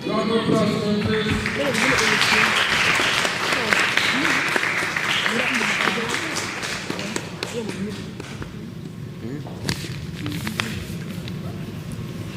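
Audience applause for a primary school team at a school quiz competition, a sustained burst of clapping that is loud at first and then tapers off, with voices mixed in.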